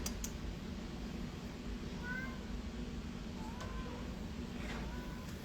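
A 1.5-year-old cream tabby cat at an animal shelter gives a few faint, short meows, spread out under steady loud background rumble and noise.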